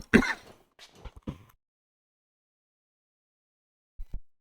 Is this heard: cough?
yes